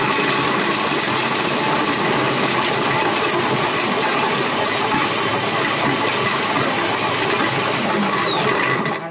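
A Mambo kitchen robot running on turbo while grinding 200 grams of dark chocolate, a loud, dense, continuous whirring roar with a rattling chop that holds steady for the whole stretch.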